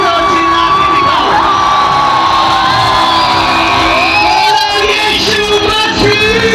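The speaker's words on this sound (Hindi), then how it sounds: "अगर खुश हो तो जितना जोर से चिल्ला सकते हो चिल्ला के दिखाओ" A large crowd of children shouts and cheers loudly at a school opening event, with sustained whoops and yells filling the whole stretch without a break.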